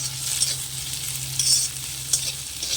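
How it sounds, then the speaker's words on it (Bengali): Ginger-garlic paste and chillies sauté in a little oil in a pan, a steady soft sizzle broken by a few brief scraping stirs, close and with no talk. "আদা রসুন বেটে রেখেছিলাম, আর দুটো লঙ্কা দিয়ে ভালো করে কষিয়ে নেব।"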